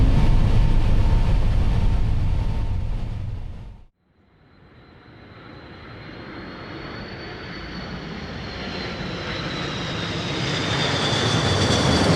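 Jet airliner engines roar loudly at takeoff, cut off by a sudden brief dip, then build back into a steady rising drone with a thin high whine as the aircraft climbs.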